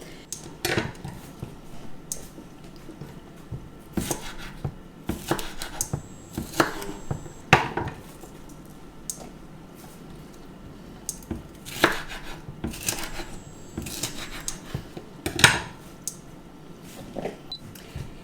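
A knife cuts tomatoes into fairly large chunks on a board, with sharp close chops coming in irregular bursts and pauses, plus faint handling clatter and no speech.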